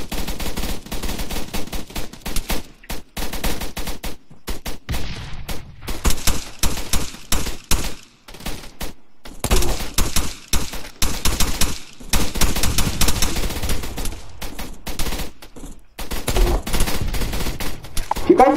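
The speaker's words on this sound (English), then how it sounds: "feel free to fire a few rounds in there for general support" Sustained gunfire in a military-style game: rapid bursts of rounds, some machine-gun, crackle loud and close for the whole stretch, with brief pauses between volleys.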